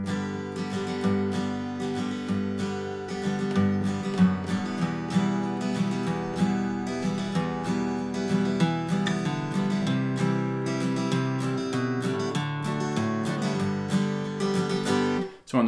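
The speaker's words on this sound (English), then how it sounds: "Dial it up with a harder strum, it sounds like this." A harder, driving strum on acoustic guitar plays a song in G without a capo, with quicker walk-down bass notes and busy down-up strokes between them.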